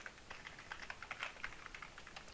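Computer keyboard keys are pressed in a quick, irregular run of light clicks, fairly close and clear, with no voice over them.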